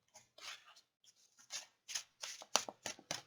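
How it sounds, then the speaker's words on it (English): A deck of cards being riffle shuffled by hand, a quiet close series of crisp fluttering bursts with short pauses between them and no talking. "I'm going to riffle it 3 times, shuffle it twice"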